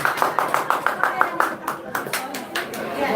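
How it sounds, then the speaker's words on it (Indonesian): An audience claps for a children's Sunday school song performance, a short burst of fairly regular claps that thins into scattered hand claps under background chatter and an announcer's voice. "Kita berikan tepuk tangan buat mereka."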